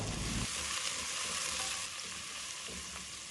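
Sliced onions sizzling steadily in hot oil for mutton semiya biryani, a continuous close frying hiss with faint stirring.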